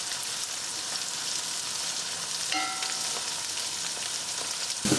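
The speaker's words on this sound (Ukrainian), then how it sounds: "Розігрійте шматочок вершкового масла та кілька ложок олії. Коли вони нагріються, викладіть перець." Sweet peppers frying in butter and oil in a pan, a dense continuous sizzle with a brief utensil tap midway and a clatter at the end.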